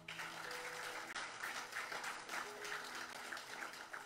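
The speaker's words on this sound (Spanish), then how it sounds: "Dale un aplauso a Dios" Church congregation clapping together, a steady sustained patter of many hands at moderate volume, with a faint voice and some tonal sound beneath.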